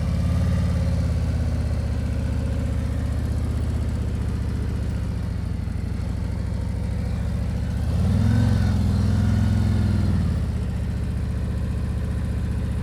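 A motorcycle engine idles steadily at low speed while the rider holds clutch preload in a slow-speed riding drill, with a brief swell in engine note near the end before settling back; no talking.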